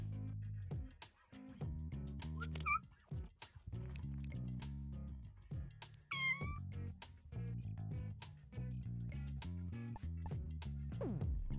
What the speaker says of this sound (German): Dauernd mit der virtuellen Katze spielen, aber die echten Katzen vernachlässigen.